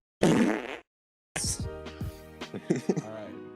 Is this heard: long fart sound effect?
yes